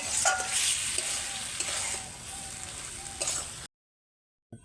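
Potato pieces stir-fried in a spiced masala hiss and crackle steadily in the pan for several seconds with light scraping of a spoon, then cut off abruptly to silence.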